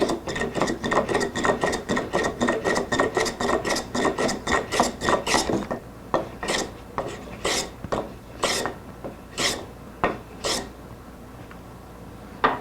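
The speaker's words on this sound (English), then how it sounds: "I'm going to get this in the vise, get it planed straight, and we'll start making this blank." Hand plane taking strokes along a wood blank clamped in a vise for an acoustic guitar build, a fast run of rhythmic rasping passes followed by slower, spaced single strokes, close and clear.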